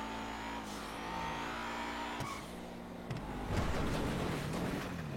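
A slippery car in a driving video game runs its engine continuously with steady drone and rising revs, bursts of acceleration near the end, with no talking.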